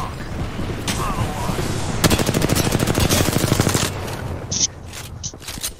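Gunfire in a video game squad team deathmatch: dense rapid bursts of automatic fire, loudest in a sustained rattling stretch midway, with shorter sharp shots and sporadic pops near the end over a busy game mix.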